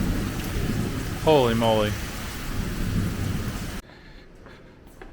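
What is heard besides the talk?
heavy rain in a thunderstorm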